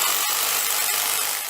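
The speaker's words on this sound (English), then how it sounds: "Drilling from an overnight weed tent and light installation next door" Power-tool drilling from a weed tent and light installation next door, a continuous loud, harsh whirring that holds steady with a few brief dips.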